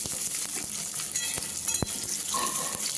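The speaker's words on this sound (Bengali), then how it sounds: "রসুনগুলো একটু ভেজে নিয়ে এর মধ্যে দিয়ে দিচ্ছি একটা পেঁয়াজ কুচি।" Chopped onion and garlic sizzle and fry in a hot pan for a leafy greens stir-fry, a steady close crackle with a few sharp spatters and stirring scrapes, no talk.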